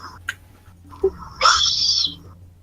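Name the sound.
hawk call sound effect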